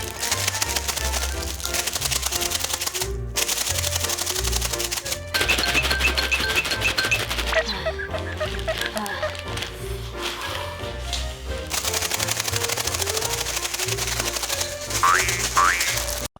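A zip-lock bag of ice and salt for homemade ice cream is shaken hard, giving a dense, continuous rattling and crunching of ice with short pauses, close and loud, with no talking over it.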